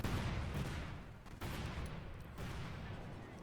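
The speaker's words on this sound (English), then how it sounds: "Another set of cluster bombs here, though, to make VonClausewitz day a bit less pleasant" Dense, rumbling barrage of cluster bombs exploding in Company of Heroes 2, a real-time strategy game set in World War II, as a continuous roar of overlapping blasts with a couple of brief dips.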